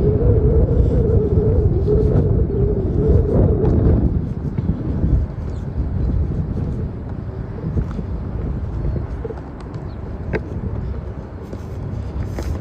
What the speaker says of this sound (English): so far I've heard a motorcycle, cars driving by